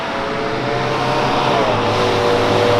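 A tow truck's engine revs and roars loudly on a Richmond, Kentucky street, a sustained rumble that grows stronger over a few seconds with no voices.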